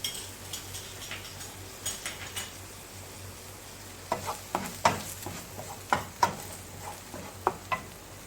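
Chili flakes and spices sizzle softly in pizza sauce in a pan, with a spoon stirring and tapping against the metal in irregular clicks that grow louder partway through.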